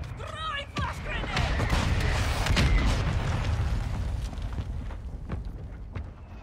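A flash grenade goes off in a video game with a heavy, rumbling boom that lingers and fades over several seconds. A chirpy game voice comes just before it, and someone talks alongside.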